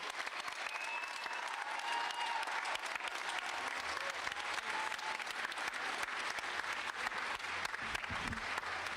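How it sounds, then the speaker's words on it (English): Sustained applause from a large crowd at a memorial service fills the whole stretch, dense and steady with no pause. "Please give our First Lady another round of applause."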